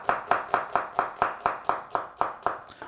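A knife chops red onion for fresh salsa on a cutting board in about twelve crisp, evenly spaced strokes, close and steady, with no talking.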